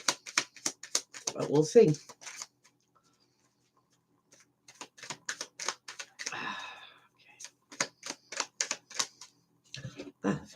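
Tarot cards being shuffled by hand, a rapid run of crisp riffling clicks, then a pause and further bursts of shuffling, close and clear, with a few brief spoken words in between.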